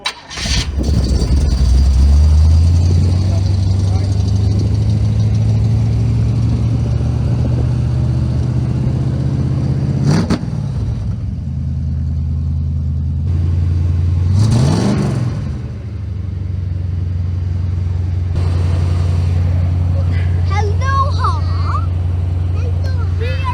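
A truck engine cranks and catches, then settles into a loud, steady idle with a couple of revs rising and falling along the way, while a person talks over it.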